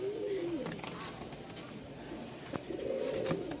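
A male pigeon of a Rajshahi giribaz breed coos up close, a low throaty rolling call at the start and again near the end, with faint handling noise between.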